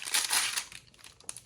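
Plastic bag crinkling during a Spigen iPhone 14 Pro wallet case unboxing, a short burst of bright crackly rustling up close that fades into softer crinkles.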